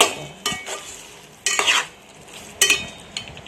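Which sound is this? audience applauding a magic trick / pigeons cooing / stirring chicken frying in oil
stirring chicken frying in oil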